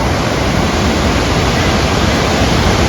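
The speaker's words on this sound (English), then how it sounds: "Here the impact of the water on the rocks," Cameron Falls in Alberta, Canada pours onto rocks in a steady, loud, close roar of crashing water, a dense unbroken wash with no voices over it.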